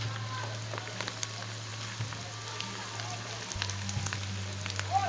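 Onions and tomato paste frying in a pan for Malatya-style ekşili köfte, giving a soft steady crackle with scattered spits and pops under a low hum.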